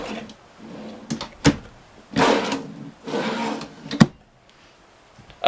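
Kitchen drawers in a new ultra-lite travel trailer slide open and shut a few times, with rubbing runner noise and sharp close knocks, near and clear without voices.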